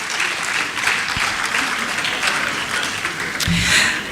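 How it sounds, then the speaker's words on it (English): Summit audience at a higher education event in Ghana applauding the planning committee, loud sustained clapping from a full room with a brief thump near the end. "let's applaud the planning committee"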